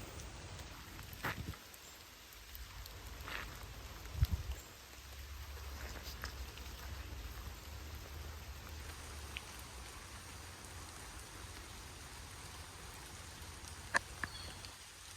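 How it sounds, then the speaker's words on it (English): Steady rain falls on the leaves of spicebush shrubs in autumn woods, a soft continuous patter with a few louder drips and occasional low rumbles. "The rain's coming down."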